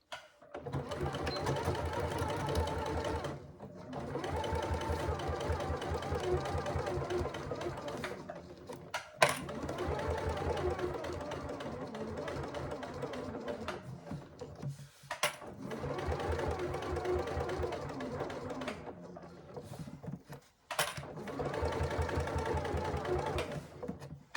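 A sewing machine runs in long steady bursts, stitching the bottom edge of a handbag's faux leather base at a half-inch seam, with brief pauses between four or five runs.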